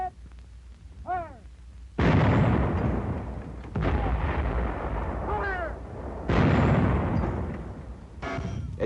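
A 37 mm anti-tank gun fires repeatedly at a tank target on a firing range, three heavy loud blasts each with a long rumbling decay, with voiced commands between shots.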